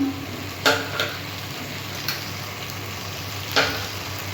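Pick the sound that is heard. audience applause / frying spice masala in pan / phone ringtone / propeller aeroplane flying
frying spice masala in pan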